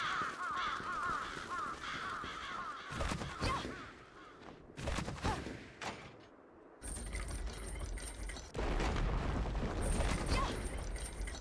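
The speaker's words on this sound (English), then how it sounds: "Birds." Crows caw in the gothic castle game Bloodstained: Ritual of the Night, harsh calls scattered over busy mechanical clatter and ambient noise that drops out briefly and then returns louder.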